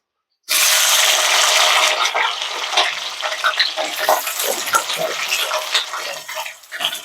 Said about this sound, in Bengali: এবারে আমি এই গরম তেলের উপরে কেটে রাখা পেঁয়াজ আর ক্যাপসিকামটা ভালো করে ভেজে নেব